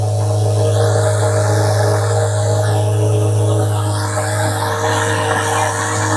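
A Chevrolet Corvette Z06 engine holds a loud, steady idle-like drone with slight pitch swells at a car show, close and continuous with no talking.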